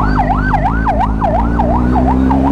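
Ambulance siren on the road, a loud, close wailing yelp repeating rapidly in even cycles over a low engine rumble.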